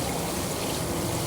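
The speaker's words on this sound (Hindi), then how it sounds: "मसाले को मैंने भून के हाफ गिलास पानी डाल दिया है।" Half a glass of water poured into roasted spice masala for an achari fried lentil dish gives a steady, close hissing splash that holds evenly throughout.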